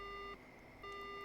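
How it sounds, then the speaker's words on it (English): Dead-line tone after a phone call in the horror game Spirit Hunter: Death Mark: two steady electronic beeps separated by a short gap, clean and fairly quiet, with no voices. "The line goes dead."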